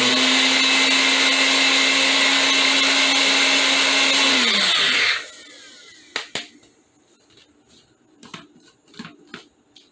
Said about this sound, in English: it's already pretty small, so it doesn't take very much to grind it up